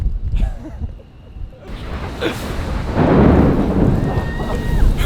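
Thunder rolls and booms during a thunderstorm over New York City seen from Top of the Rock, loud and close with rain noise, one heavier rumble swelling midway.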